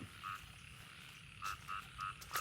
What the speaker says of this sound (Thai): มีเสียงกบเสียงเขียดครับ